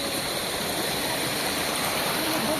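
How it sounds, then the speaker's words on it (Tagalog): Bambi Falls in Barangay Bi-ao, Binalbagan, pours as a constant, loud, close rush of water, steady and unbroken throughout with no talk. "dito na kami sa Bambi Falls"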